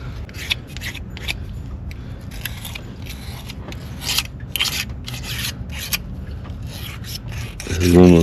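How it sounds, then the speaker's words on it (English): A fresh razor blade scrapes the solid aluminum surface of a Dodge Ram 2500 5.7L Hemi engine during a water pump job. The close, continuous gritty rasping is broken by short strokes, and a low thud comes at the end. "I like to take a nice fresh razor blade and just do a little scrape, take some of this stuff off."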